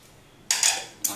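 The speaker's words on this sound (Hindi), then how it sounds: "हम एक चम्मच की मदद से इसे एक बाउल में निकाल लेंगे" A spoon scoops pressure-cooked, boiled chickpeas into a bowl, giving two quick close scraping clinks against a quiet background.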